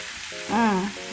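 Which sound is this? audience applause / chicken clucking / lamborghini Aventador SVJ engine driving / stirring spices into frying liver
stirring spices into frying liver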